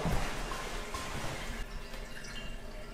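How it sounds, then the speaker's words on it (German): Inside an abandoned building, water runs through old heating pipes, making a soft continuous hiss and trickle with faint dripping tones, heard close in a quiet bathroom. "Die Leitungsrohre, da läuft Wasser durch."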